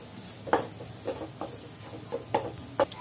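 Corn kiss, grated fresh corn with coconut, being stirred and mixed in a pan, a handful of soft, separate scrapes and taps at irregular intervals, faint and close, with no speech.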